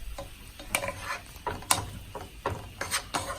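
Seared chicken and creamy farro stirred in a pot: a run of irregular scraping and clinking strokes of the spoon against the pot, fairly close and moderate, over a faint sizzle.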